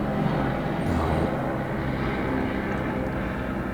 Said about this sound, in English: that's a helicopter, I think.